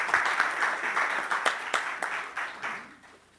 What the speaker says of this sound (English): Let's give a round of applause for that great talk.